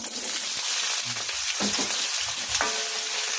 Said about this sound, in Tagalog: Tapos, piprituhin muna natin yung ating patatas. Ngayon, ilagay na natin yung ating patatas.